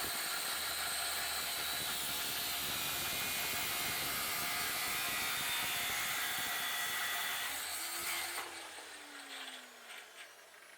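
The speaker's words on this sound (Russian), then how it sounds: "Чтобы посмотреть, как будет сидеть поддон, мы снимаем глушитель." Ratchet work while removing the muffler from a Tohatsu outboard motor, heard as a steady close mechanical whir and hiss that runs throughout before tapering off near the end.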